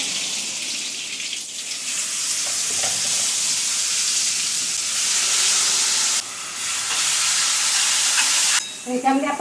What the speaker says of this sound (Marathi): नंतर आपण थोडंसं जिरं घालणार आहोत चमचा जिरं थोडीशी कोथिंबीर फोडणीमध्ये